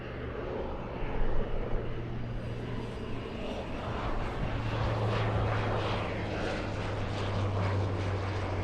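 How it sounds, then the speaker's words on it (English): A Beechcraft King Air propeller plane on approach at LAX drones as a steady, fairly faint engine hum with a continuous low propeller tone and broad airy noise. "Let's go for the King Air on approach."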